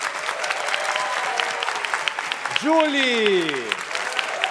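An audience claps steadily for the band on a Brazilian studio talk programme while someone speaks over the applause, and a rising and falling tonal sweep passes through partway.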